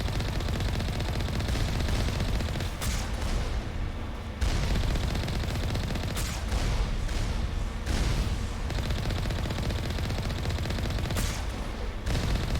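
Heavy Alliance turret gunfire in the Mass Effect video game, a dense, sustained barrage of loud shots and booms rolling on without pause, with brief gaps and sharp bursts of impacts breaking through the din.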